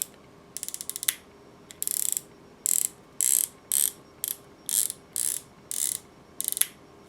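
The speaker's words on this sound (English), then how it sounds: "When it gets back to 0, it clicks." Rifle scope turret on a Tikka T3x Lite Veil Wideland being turned, producing a series of about ten crisp clicking bursts in a regular rhythm, close and clear with no speech.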